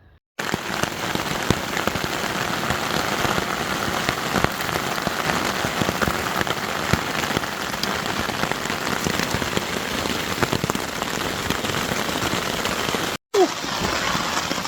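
Heavy rain pounds steadily on an ultralight shelter during a thunderstorm camp, a dense, loud, continuous patter that fills the whole stretch, with a brief dropout near the end.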